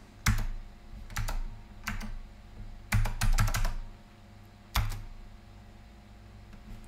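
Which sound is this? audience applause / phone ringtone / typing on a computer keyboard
typing on a computer keyboard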